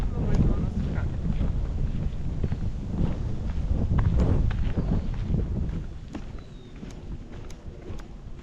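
Wind rumbles and buffets steadily in the low end, with footsteps and faint movement in the foreground, easing off toward the end.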